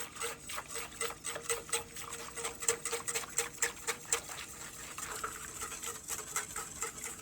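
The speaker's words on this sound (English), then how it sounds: "now as you whisk the pudding, drizzle in the egg mixture slowly" Quiet, rapid rhythmic tapping of a whisk against a pot of pudding as egg mixture is drizzled in, a steady patter of light clicks with no talk.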